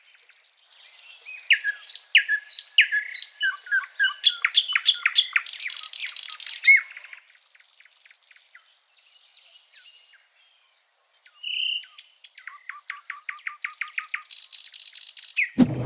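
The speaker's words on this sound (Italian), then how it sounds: "Ci sono un sacco di questi uccelli con questo blu un po' cangiante" Iridescent blue birds in Kruger National Park call close by in bursts of rapid chirps, whistles and harsh squawks, separated by a quiet pause before another lively series of calls.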